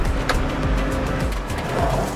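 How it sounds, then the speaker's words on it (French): A farm tractor drives into the shade after bale wrapping in a hay field. Its engine sends out a steady, fairly loud low rumble with shifting tone as it moves, and no talk is heard. "je rentre le tracteur pour qu'il soit à l'ombre."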